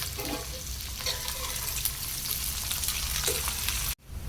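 Tempering spices with onion and green chili frying for puffed-rice upma, a dense, steady sizzle with light stirring scrapes, ending in a sudden cut.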